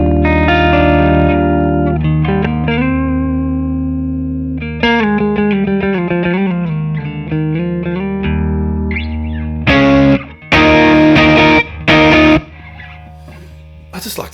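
Electric guitar played through a Marshall Origin valve amp head on a bassier tone setting rings out in sustained chords and single notes, full and loud, with a voice talking near the end.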